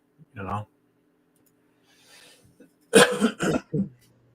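A few sharp coughs, one short burst early and a cluster of three harsh coughs near the end, close and fairly loud with quiet gaps between.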